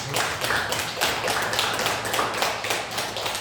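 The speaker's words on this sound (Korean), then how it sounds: "우리 박수로 축하하고 감사합니다." Church congregation in a Korean service claps in celebration, a fairly close burst of hand claps with audible individual slaps in an uneven rhythm, no talking over it.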